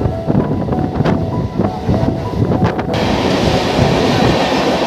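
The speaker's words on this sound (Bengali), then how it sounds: "বন্ধুরা, আমাদের ট্রেন পার করছে এখন বালুইপাড়া স্টেশন" A local train runs through a station on the Howrah–Masagram line, with steady rumbling and rhythmic clickety-clack of wheels over rail joints, heard from inside the moving coach with wind noise.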